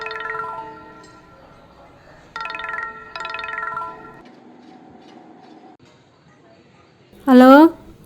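A phone ringtone chimes in short repeated melodic bursts, followed by a brief rising electronic tone near the end, with faint voices in the background.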